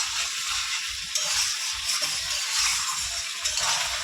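Chicken sautéing in a pan as its cooking water boils off, giving a steady, close sizzling hiss with faint stirring clinks throughout and no talk.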